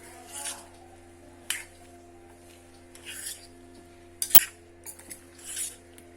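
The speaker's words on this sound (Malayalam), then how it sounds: "നല്ലോണം ഒന്ന് ഇളക്കി വെക്കാം." Banana flower pieces are tossed with salt in a bowl, producing quiet, intermittent rustling scrapes and a sharp clink or two, with near-silent gaps between strokes.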